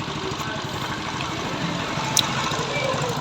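A freshly assembled TVS XL 100 moped engine runs steadily at idle, a continuous close mechanical drone with a brief sharp click partway through.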